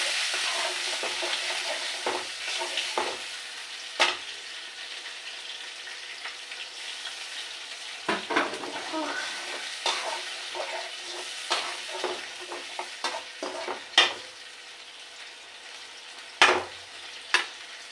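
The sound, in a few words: blended onion, garlic and ginger paste frying in a pan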